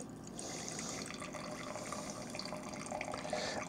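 Liquid is dumped out and poured into a glass, making a steady, continuous splashing and gurgling pour that stays close and fairly loud throughout.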